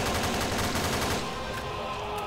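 Dense gunfire from a Left 4 Dead 2 Tank Rush session, loud and nearly continuous, with rapid overlapping shots that ease off slightly toward the end and no speech.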